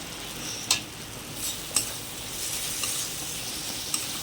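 Masala khichuri is stir-fried in a pan with egg bhujia and a little sugar, giving a soft, steady sizzle close by, punctuated by a few sharp clinks of a spoon against the pan.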